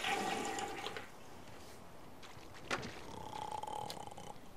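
A toilet flushes in The Sims 3, with a rushing burst of water that fades into a quieter gurgling refill, heard alone at low volume.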